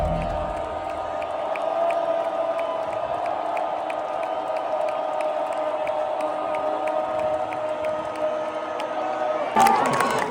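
A stadium crowd at an Iowa State college football game roars in a sustained wash of cheering, with whistles and whoops rising from the stands, while a voice talks nearby over the noise.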